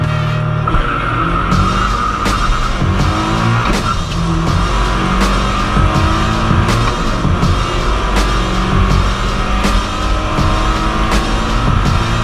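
Mazda MX-5 race cars compete in a cup race at Circuit Zandvoort, engines revving loudly with rapid gear changes, tire squeal and cars passing close.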